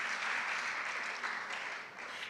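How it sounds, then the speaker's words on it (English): Sustained audience applause at a national robotics championship in Uganda, honoring the presenters; dense, steady clapping from a crowd filling the whole clip with no voices over it. "You clap for them, clap for all the presenters."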